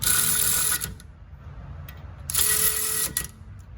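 A Snap-on Brute CTR762ODB cordless ratchet whirs loudly in two separate bursts of under a second each, with a high mechanical whine and clicking gear chatter and a quiet gap between them.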